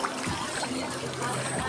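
Feet wading through knee-deep flood water on a street, soft sloshing and trickling water at close range, continuous with low rumble underneath.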